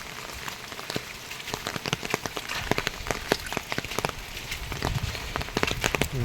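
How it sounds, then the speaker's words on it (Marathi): Heavy monsoon rain in the Konkan patters steadily on hard surfaces nearby, with heavier drops tapping irregularly throughout and no voices. "पाऊस चालूच आहे सकाळपासून"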